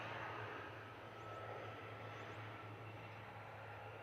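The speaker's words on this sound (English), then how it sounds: "It's our ATR on the way out." An ATR turboprop airliner departing Christchurch International Airport, heard as a distant, steady engine drone with a low tonal hum, faint and continuous with no talk.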